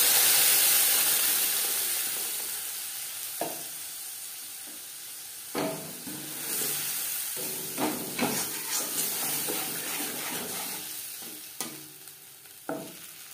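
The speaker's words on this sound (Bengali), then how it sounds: "15-20 সেকেন্ড 5 ফোড়ন ভেজে নেওয়ার পর দিয়ে দেবো মশলার পেস্ট" Panch phoron spices frying in oil in a wok for a fish curry, a continuous hiss of hot oil with scattered sharp pops and a few spoon scrapes, close and moderately loud.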